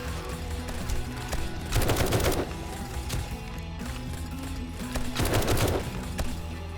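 Robotic turrets in 7 Days to Die fire two rapid automatic bursts a few seconds apart, crackling over a steady tonal game background.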